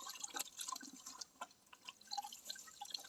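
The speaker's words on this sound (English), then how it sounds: "I'm going to dip it in the water, make sure it's really saturated" A tie-dye shirt is dipped into lake water, giving soft, quiet dripping and light splashing with a few sharper drops over a few seconds.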